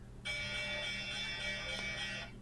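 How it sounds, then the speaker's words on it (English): A stock exchange opening bell rings in a steady, sustained electric clang that holds for about two seconds, bright and continuous over a low background hum, with no talking. "About 5 seconds away from the opening bell."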